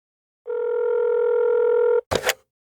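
A telephone tone sounds once, a steady electronic beep lasting about a second and a half at the start of a voicemail, followed by a short burst of noise, clear and alone.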